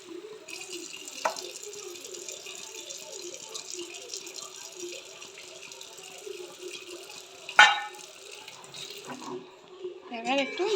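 Running tap water splashes steadily into a spice bowl being rinsed at a kitchen sink, with a sharp clink near the end and faint rattling as the bowl is handled.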